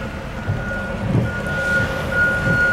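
A vehicle backing up in busy Boston street traffic on a rainy day gives steady reversing beeps, heard from inside a nearby car over low engine rumble and road noise.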